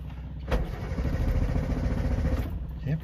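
A hot Subaru 360 two-stroke engine cranking and catching, a sudden burst then a rough, buzzing run for a couple of seconds before dropping away, fairly close with a brief voice near the end.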